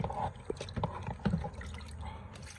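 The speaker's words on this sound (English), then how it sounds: "need to put warm water" Warm water is poured into a container during gold recovery from crushed rocks, giving a soft liquid trickle with a few splashy bursts, steady and close throughout.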